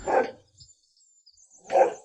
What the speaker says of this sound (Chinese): 狗狗是拴在这里的